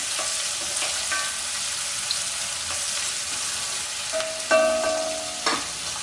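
Chopped onions and capsicum frying in a pan for a Chettinad mushroom masala, a loud continuous sizzle close by with occasional spoon stirs and scrapes, and a couple of sharper metallic clinks near the end.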